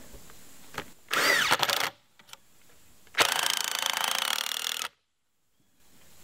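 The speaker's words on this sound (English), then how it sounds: "I'm just putting 4 screws in each piece here." A cordless power drill drives screws into tough wooden skid blocks for a workshop footing, two loud close whirring bursts of about a second and a half each, separated by short clicks and pauses.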